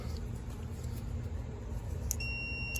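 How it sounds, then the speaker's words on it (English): A digital multimeter set to continuity gives a steady electronic beep as its probes touch during a home air conditioner repair, a clear tone standing out near the end over a low background hum. "Voltmeter set to read continuity. I touch the two together."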